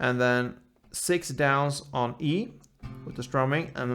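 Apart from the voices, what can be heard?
None of the usual background noises is heard.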